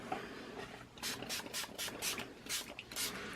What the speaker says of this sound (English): I am going to spray them with a little bit of water